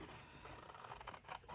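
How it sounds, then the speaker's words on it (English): Scissors cut paper for a handmade exploding box, a quiet run of close rasping snips and slides. "Right now I'm just cutting it out."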